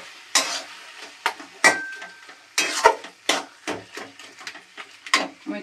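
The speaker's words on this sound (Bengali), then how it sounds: "ডিম যেই হয়ে গেছে এবার তুমি মিশিয়ে নাও।" Cooked egg being stirred in a pan: a spatula scrapes and taps against the metal in about a dozen sharp, separate strokes, up close over a faint sizzle, with no voices.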